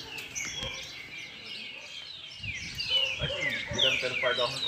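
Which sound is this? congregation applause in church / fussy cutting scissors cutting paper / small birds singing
small birds singing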